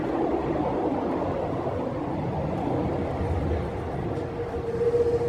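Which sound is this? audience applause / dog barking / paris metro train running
paris metro train running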